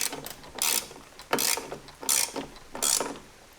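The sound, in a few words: ratchet tightening a Road Glide backrest bolt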